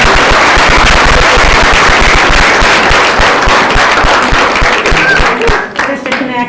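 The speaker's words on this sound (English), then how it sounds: "Just another round of applause, please." A loud, dense round of applause from a school board meeting audience rolls on for several seconds, crisp and crowded, then thins and fades toward the end.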